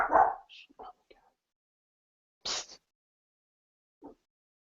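A dog indoors gives a few short, sharp barks with quiet gaps between them, mixed with brief bits of nearby human voice.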